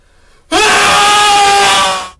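After a moment of near silence, a single loud, sustained human scream bursts in and holds for about a second and a half before fading, as in a horror scene.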